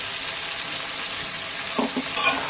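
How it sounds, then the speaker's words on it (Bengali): Spices and salt with green chilli and cumin paste fry in a pan for a thin hilsa fish curry with ridge gourd and potato, giving a steady close sizzle with a few soft scraping stirs near the end. "এখন আমি সব মশলা নিয়ে ভালো করে কষিয়ে নেবো"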